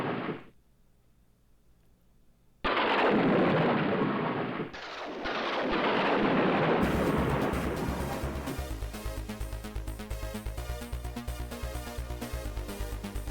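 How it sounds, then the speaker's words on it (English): A lightning bolt and rolling thunder crash open the One Must Fall 2097 game intro, a sharp loud burst followed by a second strike, then giving way to a retro-sounding synth soundtrack. "more games should start with lightning bolts like this"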